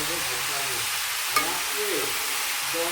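Cabbage fry sizzles steadily in a pan as it is tempered, a dense hiss with a sharp clink partway through and faint background voices.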